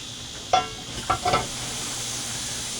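Lion's mane mushrooms fry in a cast iron pan with a steady soft sizzle, broken by a few short scraping strokes of a metal spatula pressing them down.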